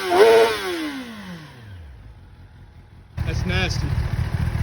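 A 2021 Kawasaki ZX-10R KRT Edition sportbike engine revs hard nearby, the pitch sweeping down as it falls back toward idle, then a second loud rev surges in and holds.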